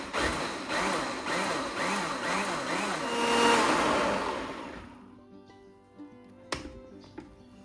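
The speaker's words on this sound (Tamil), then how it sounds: "ஒரே மிக்ஸி ஜாரில் எல்லாருமே ஈஸியாக வந்து அரைச்சிடலாம்." A mixer grinder whirs loudly grinding appam batter, with a pulsing, churning rhythm for several seconds, then winds down, leaving a couple of faint clinks.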